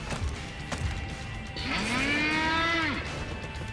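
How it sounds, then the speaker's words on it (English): Cattle moo in the video game Metal Gear Rising: a single loud, drawn-out bellow rising then falling, over a busy background of game effects. "We then fight the cows."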